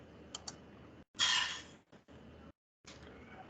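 Quiet desk setup where a few scattered computer keyboard keystrokes tap out a command, short isolated clicks with gaps of near silence and one brief louder burst of noise.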